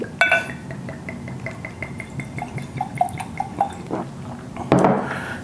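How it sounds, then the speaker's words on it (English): Monkey Shoulder whisky, bottled at 43%, is poured generously into a glass as a soft, close trickle of drips that ends in a sharper clink and splash. "It's a Labor Day generous pour"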